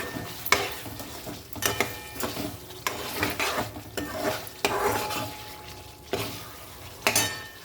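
Homemade spice masala and turmeric fry in hot oil, the loud close sizzle broken by repeated stirring strokes and utensil clinks against the pan in an uneven rhythm.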